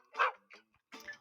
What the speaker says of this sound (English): "Woof, woof," barked the dog.